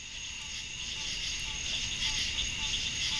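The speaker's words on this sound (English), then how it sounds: "Those aren't birds. Those are something called cicadas" Cicadas drone at night in a steady, high-pitched buzzing chorus that swells slightly, with a low background rumble beneath.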